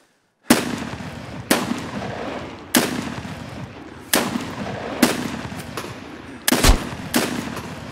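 Gunfire in Escape From Tarkov: six sharp, loud single shots spaced about a second apart, each cracking out and ringing off in a long reverberant tail, with silence before the first.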